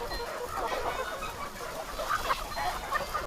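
Farm chickens fed insect larvae cluck continuously in a busy, overlapping chorus, moderately close against a noisy background.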